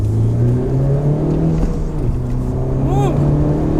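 Engine of a 2017 Honda Civic Type-R accelerating in +R mode, a loud, steady rising drone heard from inside the car, with a person talking over it.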